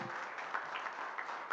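Congregation in a church on Easter Sunday claps in praise, a soft, steady patter of applause heard from a distance, faint throughout.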